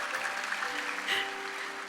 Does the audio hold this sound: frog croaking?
no